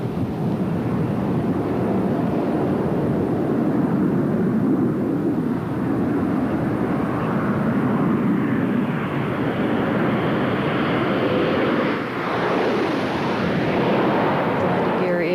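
Space Shuttle Discovery landing, with a loud, steady broad roar of rushing air and engine-like rumble throughout, swelling slightly near the end around gear lowering and main gear touchdown, with faint voices beneath.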